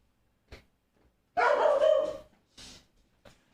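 A female pet dog barks close by: a short yip, then one long loud bark, followed by a few quieter short barks and yips with gaps between them.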